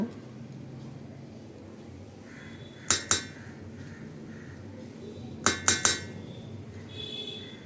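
A spoon stirs sugar into butterfly pea flower water in a glass or pot, giving a few sharp metallic clinks: one pair early on, then a quick cluster of three, over a low, quiet background.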